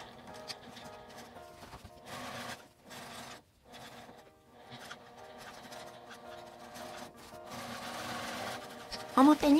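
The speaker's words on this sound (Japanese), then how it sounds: "ちょっと厚みがあるのでゆっくり返し縫いをします。" A sewing machine slowly backstitches thick laminated vinyl-coated fabric while an unlined bag is made, running in short close bursts of whirring stitches separated by brief pauses. No one speaks.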